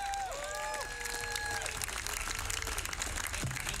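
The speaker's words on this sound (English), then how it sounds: "So everybody, please give it up for Dan Cohen." Audience applause at a Hands Off Assange rally, a steady wash of clapping and crowd noise lasting throughout, with a voice speaking briefly near the start.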